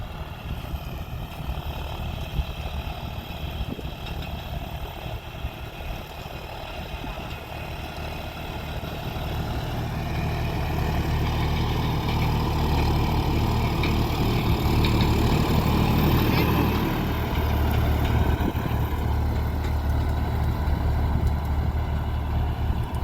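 A John Deere Gear Pro series tractor fitted with a blade runs in C second gear. Its engine gives a steady, close, continuous drone that swells slightly partway through.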